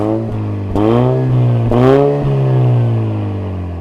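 A car fitted with a Max Racing Flow Smart V2 exhaust revs close by, its engine climbing in pitch in two or three blips over a steady idle drone, loud and alone.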